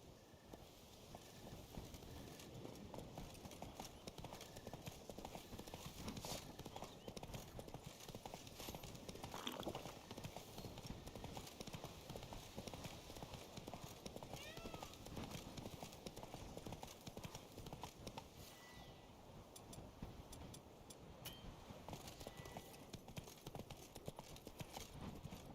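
Horse hooves clip-clop at a gallop in the video game Witcher 3, a dense, fast and steady drumming of hoofbeats with faint ambient game sound underneath, continuing throughout at moderate volume.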